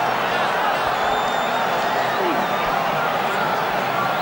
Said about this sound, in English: Great roar from the crowd